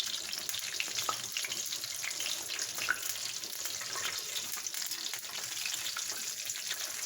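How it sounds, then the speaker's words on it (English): Hot oil heating for frying fish for Jamaican brown stew fish gives a steady, soft, crackling sizzle that holds evenly throughout without pause. "you can hear in the background, the oil is being hot."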